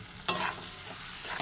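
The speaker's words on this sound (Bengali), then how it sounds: "এখন এর মধ্যে ভেজে রাখা আলুগুলো দিয়ে দেবো।" Fried potatoes tip into a pan of turmeric, chilli, cumin powder and salt with a sudden loud hiss, which settles into a steady, softer sizzle as they are stirred.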